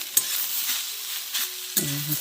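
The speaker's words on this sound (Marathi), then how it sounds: "चुलीवरती ना लवकर भाजून होतो" Sliced onion and grated coconut roast in a pan over a wood-fired clay stove, making a steady close sizzle broken by a few scraping stirs and a short metallic clatter near the end.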